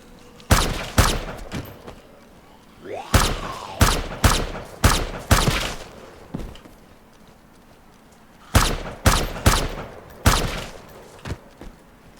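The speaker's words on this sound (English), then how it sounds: "Running around the city shooting zombies." Gunfire from shooting zombies in the DayZ video game: loud sharp shots in bursts, a single shot, then a rapid string of five or six, and later another quick volley, with quiet gaps between.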